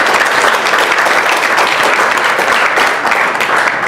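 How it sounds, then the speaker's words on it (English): Steady, dense applause from an audience at a chamber of commerce annual banquet, loud and close, sustained without a break for the whole stretch with no voices on top. "Let's give all of these guys a round of applause."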